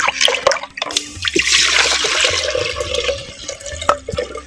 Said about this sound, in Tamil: அரிசி அலைஞ்ச தண்ணி ஒரு லிட்டரு